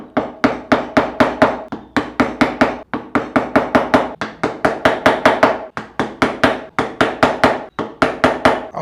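A mallet drives a wood chisel into wood along marked lines, sinking it a few millimetres to cut a round tenon; sharp, loud, close strikes come in fast, steady bursts of several blows, with brief pauses between them.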